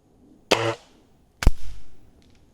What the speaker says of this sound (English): That was me. I shot it a little low.